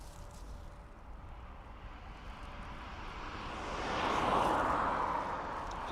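An Emirates Boeing 777-300ER arriving at Dublin Airport from Dubai swells from a distant rumble into a louder broad jet roar as it nears, a steady build with no talk.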